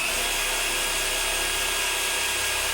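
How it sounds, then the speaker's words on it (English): A power drill whirs continuously at high speed drilling a 7mm hole in a 1/18 scale model Spitfire, loud and close, a steady grinding buzz with no voices. "remember when you drill anything like this"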